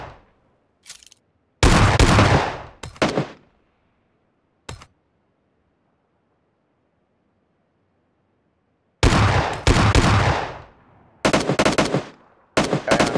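Shotgun gunfire in the PUBG video game: loud, sharp blasts in irregular bursts, some single shots and some quick clusters, separated by long quiet gaps.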